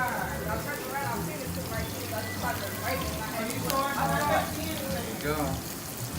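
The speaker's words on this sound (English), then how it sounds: "We're going to start sauteing up some mushrooms." Mushrooms sauté in a pan with a steady sizzle and crackle throughout, while a person speaks briefly over the frying.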